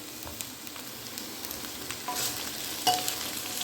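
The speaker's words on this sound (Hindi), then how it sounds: "अब इसमें उठा के मैं ये जो मैंने बोड़ी तोड़ के रखी है कट करके, इसमें डाल दूंगी" Broken pieces of dried bori drop into hot oil in a pan and crackle with a soft, continuous sizzle, punctuated by a few louder pops and scrapes; no one speaks.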